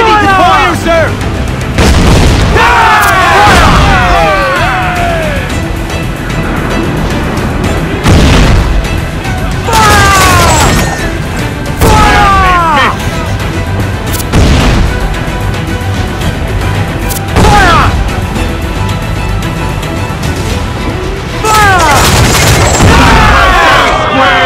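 Booming ship cannon volleys repeat every few seconds in Assassin's Creed 4 Black Flag, loud and heavy over continuous naval battle noise, with shouted voices in between.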